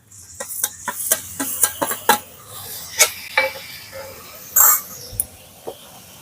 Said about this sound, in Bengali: এবারে যে আলুটা আমি গ্রেট করে ধুয়ে রেখেছিলাম সেটা দিয়ে দিচ্ছি